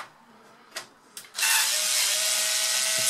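A Torx T10 screw driven out of a Power Mac G3 Blue & White case with a powered screwdriver: two light clicks, then a loud, steady whirring motor run close by.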